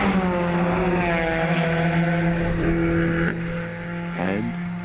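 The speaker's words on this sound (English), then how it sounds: "red cars can be really fast." A fast red car drives by with a loud, tonal engine whine that shifts pitch as it passes, followed by a brief rising note near the end.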